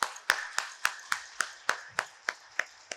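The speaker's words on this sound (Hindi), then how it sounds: "हम एक बार अपने आप के लिए एक बार जोरदार तालियां बजा सकते हैं" Clapping in rhythm at a Hindi motivational talk, about ten sharp, evenly spaced claps in three seconds, loud and close with no voices over them.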